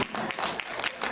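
Audience applause in a classroom-style lecture setting, a dense wash of many hands clapping at once, fairly loud and steady throughout, with faint voices mixed underneath.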